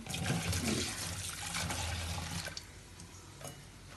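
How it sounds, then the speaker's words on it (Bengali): Fish pieces rubbed with salt and turmeric are rinsed under running water, a steady splashing wash that is loudest early on and thins to lighter trickles and drips. "এখন একটু ধুয়ে ফেলবো সুন্দর করে"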